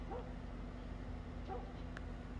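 A dog in The Last of Us on PS5 gives a few faint yips and whimpering barks over a steady low game hum.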